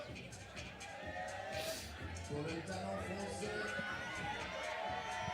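Spectators at a team bouldering competition arena cheering and shouting, a steady mass of crowd noise with whoops rising over it, heard beneath a commentator's voice.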